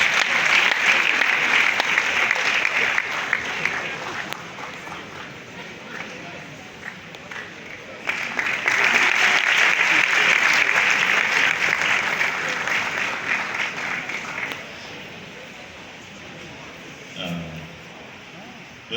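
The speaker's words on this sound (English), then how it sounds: "A round of applause. Please celebrate him till he comes to the lectern." Sustained applause in a university auditorium as an ambassador walks to the lectern, swelling in two strong waves, then fading to scattered clapping and faint movement sounds near the end.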